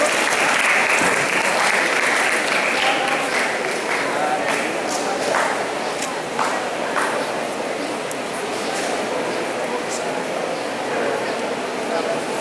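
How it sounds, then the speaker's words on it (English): Sustained applause from a school audience at a Grade 9 lecture event, a dense, steady clapping wash filling the whole stretch without pause. "Again, let's give her a round of applause, please."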